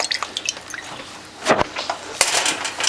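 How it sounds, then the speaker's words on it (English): Maggi seasoning liquid splashed into a rouladen filling mixture, a few soft drips and a short splash standing out clearly over quiet kitchen ambience. "we want a little bit more Maggi in the mix"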